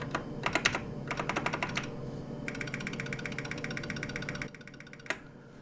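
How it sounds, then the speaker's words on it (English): Rapid, even clicks come from the built-in key clicker of a Fairlight CMI IIx synthesizer keyboard as keys are pressed in quick runs, close up and crisp over a steady low machine hum. "the actual keyboard clicks."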